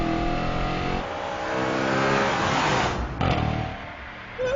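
A 2013 Audi RS5 engine revs up loudly from the driver's seat, its harmonic tone climbing and falling over several seconds with a sharp throttle blip near the end.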